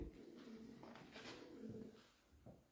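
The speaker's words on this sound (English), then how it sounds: "This is the ones where the pigeons kept talking to us." Pigeons cooing inside an abandoned RAF base, a few soft low coos spread across the moment, fairly faint and close in a quiet indoor space with no talking.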